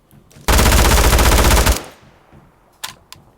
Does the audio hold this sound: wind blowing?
no